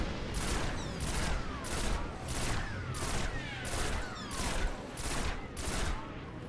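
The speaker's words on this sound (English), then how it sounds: "I'm going to do a slow shot, and then I'm going to do a fast shot" Pulse rifle fire in the video game Destiny, a steady run of loud bursts repeating roughly every half second, each crackling burst followed by a short gap, with no talking.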